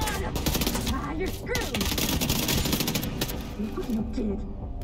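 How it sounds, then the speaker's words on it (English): A grenade launcher fires amid gunfire in The Division 2 on Xbox, dense, loud bursts and rattling shots throughout while someone talks over the action. "Grenade launcher. Launching grenade."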